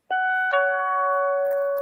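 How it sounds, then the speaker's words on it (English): An electronic doorbell chimes a clear two-tone ding-dong, the second tone ringing on and slowly fading, with no talking. "Mr. Elvis, is that the new sound of the bell?"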